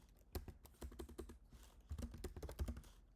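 Rapid clicking of computer keys as a command is typed to run a React app build, an uneven burst of close, distinct keystrokes with no talking.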